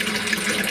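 A brief, steady rush of running water, like a tap or stream flowing continuously, close and fairly loud with no other sounds.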